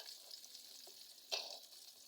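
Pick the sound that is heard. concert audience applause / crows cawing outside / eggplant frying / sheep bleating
eggplant frying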